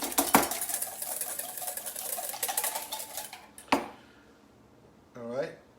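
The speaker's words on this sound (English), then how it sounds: "So we're gonna mix this. With a whisk." Egg yolk whisked briskly in a bowl for homemade mayonnaise, a dense run of fast metallic whisk strokes and scrapes for several seconds, then a sharp clack, a pause and a brief voice.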